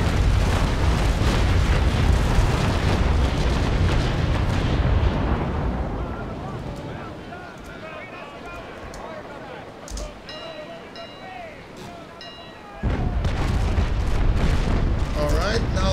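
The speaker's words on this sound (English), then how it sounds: "Narrow down the firing field and fire!" Naval Action ship cannons fire a broadside, a dense rumbling roar of overlapping booms that fades into softer crackling and distant pops before another heavy burst erupts near the end.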